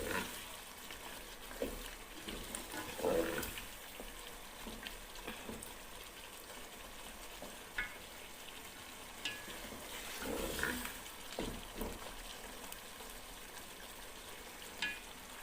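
Chicken simmering in a pot with freshly added paste of two large tomatoes, a soft steady sizzle and bubbling with occasional stirring scrapes, fairly quiet and close, no talking.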